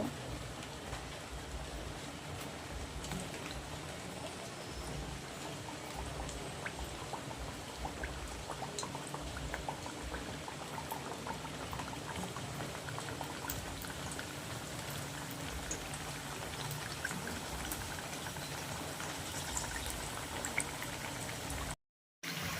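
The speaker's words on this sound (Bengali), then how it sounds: "কড়াতে তেল গরম করে নিয়েছি একে একে আমি খাজাগুলোকে দিয়ে ভেজে নেব" Khaja pastries deep-frying in hot oil in a wok, a soft, even bubbling crackle like light rain that runs unbroken and fairly faint before a brief cut near the end.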